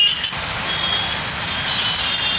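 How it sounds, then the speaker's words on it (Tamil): Steady rumble of street traffic in Kanchipuram, Tamil Nadu, with a heavy truck engine close by, a continuous wash of road noise and faint high beeps. "காஞ்சிபுரத்தின் டிராஃபிக்."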